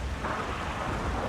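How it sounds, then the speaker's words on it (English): Steady rain with a low rumble of thunder beneath it in a stormy area of the video game Shadow of the Colossus, a constant wash of noise with no voices. "this is the only area that has rain in it"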